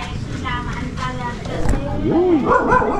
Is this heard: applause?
no